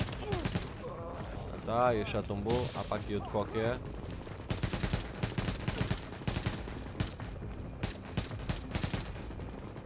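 Gunfire in The Division beta video game, with rapid bursts and single sharp shots cracking repeatedly through the clip while a player talks over them.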